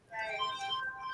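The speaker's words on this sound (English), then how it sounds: "it's the phone ringing" A phone ringing briefly with a bright electronic tone, a short burst at moderate distance, faint and alone.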